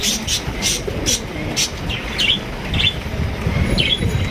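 Chirps and squawks from birds at a pigeon market selling Lahori and other fancy pigeons, repeating in short bursts over a busy background murmur of the market.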